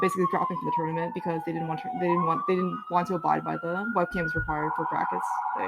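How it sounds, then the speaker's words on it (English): Emergency vehicle sirens wail outside on a New York City street, a rising and falling tone clearly audible behind someone talking continuously close to the microphone. "Sorry about the sirens."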